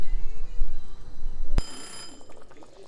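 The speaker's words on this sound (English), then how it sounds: "The alarm has just gone off." Kitchen timer alarm in a home kitchen sounding a sudden bright electronic ring that cuts in partway through, over a low background hum, then fades out.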